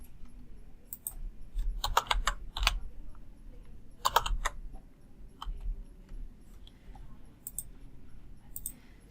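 Short bursts of typing on a computer keyboard while entering a server password into Notepad, quiet separated clusters of crisp key clicks with gaps between them, close and alone without talk.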